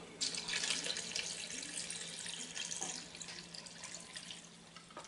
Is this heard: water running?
yes